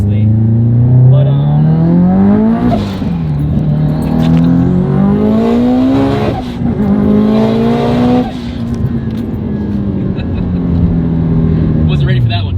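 An 850 hp 2JZ-swapped Subaru STI on 42 psi of boost and street tires accelerates hard, with loud close engine pulls climbing through several gear shifts while people talk inside the car.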